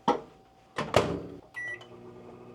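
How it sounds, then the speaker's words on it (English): A microwave oven in an RV runs on inverter power, with a few clunks and thumps as the door shuts and it starts, followed by short electronic beeps over a faint steady hum. "1300 watts to run the microwave."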